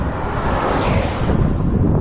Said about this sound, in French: En plus, il y a du vent, j'ai pas de sens, il me pousse, là.